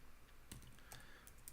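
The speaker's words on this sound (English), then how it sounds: "Excuse me if you can hear furious typing." Fast, heavy typing on a computer keyboard, with sharp individual key clicks and clacks in a quick irregular run, close but fairly quiet.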